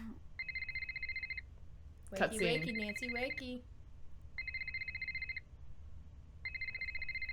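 An electronic telephone rings in a bedroom scene of the Nancy Drew game Ghost of Thornton Hall. Crisp, repeating trilling bursts sound three times, with a spoken voice filling the gap after the first ring.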